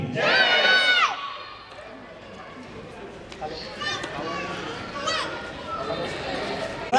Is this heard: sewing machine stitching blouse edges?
no